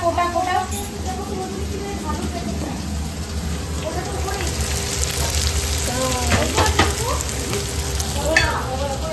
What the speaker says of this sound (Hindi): अभी ऑनियन फ्राई हो रहा है